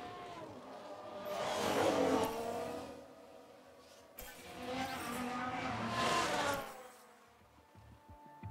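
Two swelling passes of F1 race car engine noise in F1 Manager 2022, roaring up and fading away, matching a tire lockup and spin-out on track, moderately loud with a quieter lull between.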